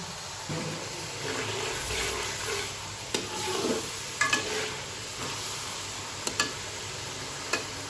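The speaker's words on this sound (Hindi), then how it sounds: "अब हम इस बीच में टमाटर डाल दिए हमने, टमाटरों को मिक्स करेंगे हम।" Tomatoes stirred into a frying pan for dhaba-style masala dahi bhindi: a soft, continuous sizzle with scattered scraping clicks from the spoon, moderately quiet and close, without speech.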